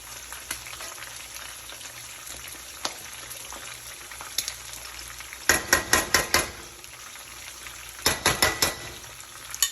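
Food sizzling steadily in a pan, with a couple of bursts of sharper crackling and scraping about halfway through and near the end.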